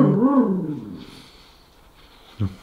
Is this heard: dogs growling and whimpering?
yes